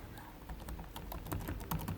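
Rapid typing on the keyboard of a Lenovo IdeaPad Slim laptop, a steady run of soft, close key clicks with no talking.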